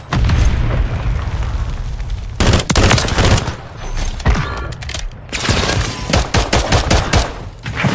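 Gunfire from guns in a video game bursts loudly in rapid automatic strings and single booming shots, broken by brief pauses and mechanical clicks, with no talk over it.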